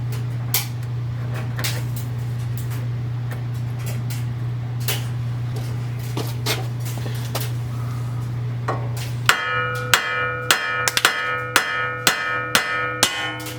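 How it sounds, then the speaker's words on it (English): Repeated metal hammer strikes on a Mercedes ML55 AMG suspension part, sparse at first over a steady engine-like hum, then a quick series of sharp, loud blows. "we can pop this off with a hammer"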